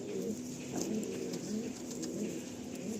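Several tournament-quality racing pigeons coo softly in a loft, low steady murmuring close by, no talking.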